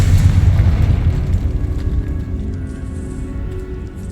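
Confringo blasting spell exploding in the Hogwarts Legacy video game, a heavy rumbling boom that starts loud and rolls on, slowly fading over several seconds.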